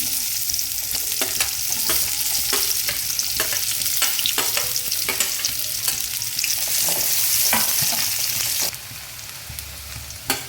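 Chopped onions sizzle and crackle steadily in hot oil already seasoned with cumin seeds, a dense close frying hiss broken by spoon scrapes and stirring knocks, with no talking.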